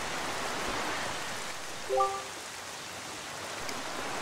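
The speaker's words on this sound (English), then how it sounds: "this place suffers under dark clouds of rain" Steady rain pours over a cursed island in the video game The Legend of Zelda: The Wind Waker, a dense, even hiss of falling water throughout with one brief tonal chime midway.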